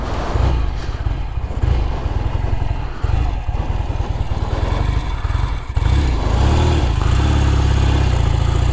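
A Royal Enfield Interceptor motorcycle engine idles loud and close with a rough, pulsing beat, its tick-over slightly uneven, running steadily throughout with no voices.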